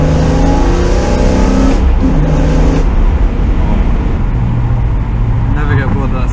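A BMW M3 engine roars loudly and steadily up close, revving hard with a rich, throaty tone and slight shifts in pitch throughout.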